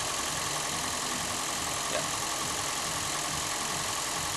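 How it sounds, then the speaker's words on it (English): A Toyota Prius engine running at high idle while driving its MG1 generator through the epicyclic gearbox during a charge, heard as an even, unbroken drone from start to finish, fairly quiet and without speech. "now we have the engine running at some high idle"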